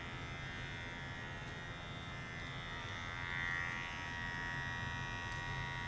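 Electric shears clip a Persian cat's knotted fur at home, a continuous near buzzing hum that holds steady and swells slightly for a moment partway through, with no voices.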